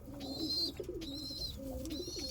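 Andhra Kalshira pigeons in a loft coo softly in low, throaty rolling calls, with higher chirps from other birds repeating nearby over a faint background hum.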